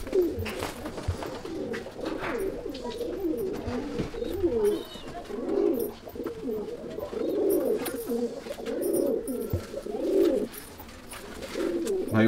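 Pigeons in a loft coo repeatedly, several soft throaty rolling calls recurring every second or two and overlapping at close range, steady and moderately loud.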